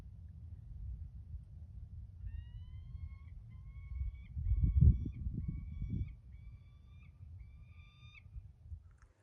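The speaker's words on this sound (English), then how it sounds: "My presence seems to have alerted a bird. Sounds like a falcon, maybe a young one." A young falcon gives a series of thin, repeated calls at a moderate distance among rocks in Saguaro National Park, evenly spaced over a low rumble of wind.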